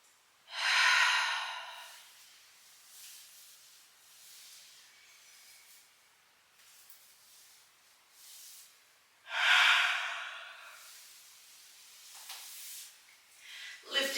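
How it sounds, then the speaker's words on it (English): Deep yoga breaths, a slow inhale and exhale heard twice, each a loud airy rush lasting about a second, separated by long quiet stretches with faint breathy noise between. "Big deep breath in."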